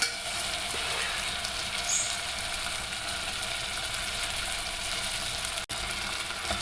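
Chopped tomatoes sizzle in a pan with onions and tomato paste, a steady close frying hiss with light stirring scrapes and one sharp clink near the end.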